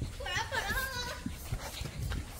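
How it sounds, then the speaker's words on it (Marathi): A dog near a temple in Advalpal, Goa, giving a few soft whimpering yips early on, close by, while a person talks over and after it. "समोर डॉगी आहे."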